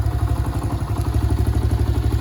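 A 1971 Honda CT70 motorcycle engine runs close and loud, a fast, even putter with a rhythmic clattery pulse throughout.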